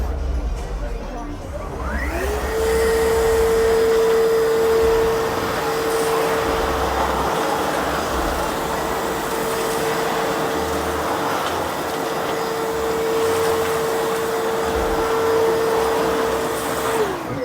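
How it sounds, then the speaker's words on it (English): A Milwaukee MX Fuel cordless backpack blower spools up to a steady, loud roar and holds it, blowing real gravel stones around outdoors, with a faint scatter of stone noise under the continuous airflow. "So here for our demo portion, we're going to be blowing some gravel here."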